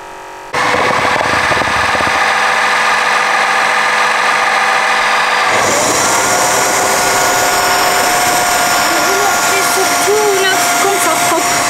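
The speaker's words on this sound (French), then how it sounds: "Voilà, ça nettoie le rouleau automatiquement." A Redkey W12 floor washer mop runs its automatic roller-cleaning cycle, a loud, steady close motor whir that shifts to a different pitch partway through, with voices talking over it.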